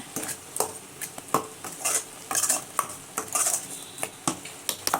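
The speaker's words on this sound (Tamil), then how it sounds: "நல்லா வதங்கட்டும்" Prawns sautéing in a pan for prawn thokku, with bursts of stirring and utensil scraping against the pan over a soft sizzle, close and fairly quiet, no talk.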